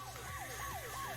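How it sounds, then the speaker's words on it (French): A British police van siren in the Supermarket Shriek video game wails in quick repeated falling sweeps, steady and fairly faint, under a constant low hum. "C'est un camion de police, mais un camion de police britannique."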